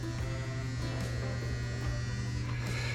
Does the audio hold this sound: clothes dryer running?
yes